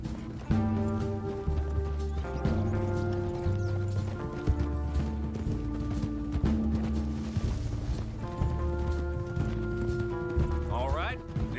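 Horse hooves clip-clop steadily at a riding pace in Red Dead Redemption 2, carrying on under a layer of game music with harmonic tones.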